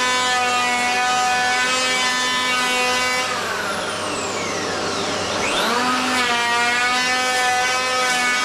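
A hand or power plane shaving along the side edge of a wooden door being fitted to an old frame, giving a loud, steady rasping whine with a brief dip and rising sweep partway through.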